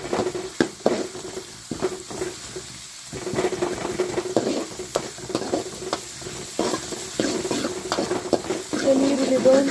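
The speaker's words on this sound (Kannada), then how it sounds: "ಮೀಡಿಯಮ್ ಸೈಜ್ದ 3 ಈರುಳ್ಳಿ ಕಟ್ ಮಂತ ಪಾವಡು ಈರುಳ್ಳಿ ಸೋಕು ಫ್ರೈ ಮನ್ಪೊಡು" Chopped onions fry in oil, giving a steady moderate sizzle broken by repeated scraping and stirring knocks from a spoon against the pan.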